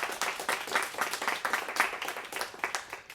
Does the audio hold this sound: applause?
yes